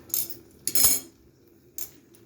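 A metal lid clinks against a pot as it is lifted from a steaming dish of shellfish curry: three short, bright metallic knocks and scrapes, close by, separated by quiet.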